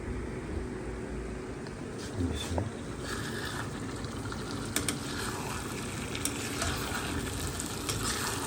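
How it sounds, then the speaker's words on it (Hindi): Mutton with its masala fries in a karahi over medium-high flame, making a loud continuous sizzle broken by scattered scraping and clanking stirs throughout. "तो ये सारा मटन और इसका मसाला हम कढ़ाई में शामिल कर देंगे।"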